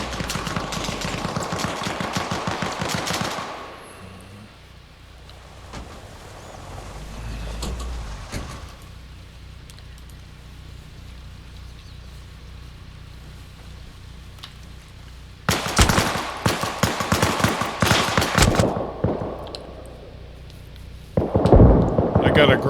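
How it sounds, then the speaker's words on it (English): Gunfire in the military shooter game Arma Reforger, loud dense bursts of shots at the start and again near the end, with a quieter stretch between where a voice talks briefly. "Someone's shooting at us."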